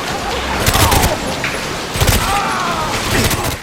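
Video game gunfire crackles in rapid bursts with a few heavier booms, loud and close over a busy battle background.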